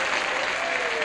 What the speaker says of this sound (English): The banana section applauded for Max.